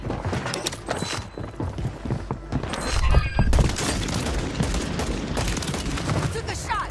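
Gunfire in the video game Warzone 3 comes in repeated bursts of sharp shots and rapid automatic fire, with heavier booms in the middle, and someone speaks briefly amid the shooting.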